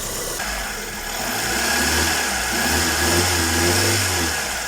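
A Mitsubishi Lancer engine idles steadily at close range after a timing belt replacement, its low hum rising slightly and settling into an even, continuous drone.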